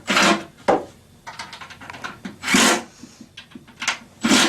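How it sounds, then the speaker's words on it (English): Screws are snugged up on an all-wood cabinet, close-up bursts of scraping and rubbing against wood in uneven strokes with brief pauses between them. "And snug up all the left and right screws."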